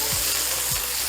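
Beef burger patties sizzle loudly in a pan, a dense steady frying hiss close up with a couple of brief scraping clinks, no voices.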